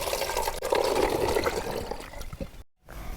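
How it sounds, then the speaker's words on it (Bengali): Water is poured through a funnel into a plastic bottle, making a continuous close splashing gurgle that tapers off and cuts out near the end. "প্রথমে আমরা ফানেলের সাহায্যে জলটিকে বোতলে ঢেলে নিচ্ছি।"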